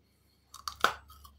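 Crunchy jujube fruit bitten and chewed up close, a few crisp crunches in quick succession that fade out, alone without talk.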